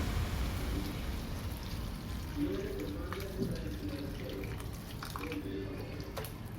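About one and a half cups of water are poured into sambhar while cooking, a soft steady splashing and trickling heard up close beneath light background hiss.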